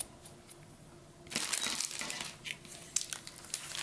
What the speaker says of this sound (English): I'm going to trim off the excess twine.